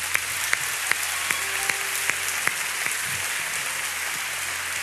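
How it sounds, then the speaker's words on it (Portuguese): A church congregation applauds during a sermon, with steady, evenly spaced claps standing out over a continuous wash of crowd noise. "vamos aplaudir Jesus"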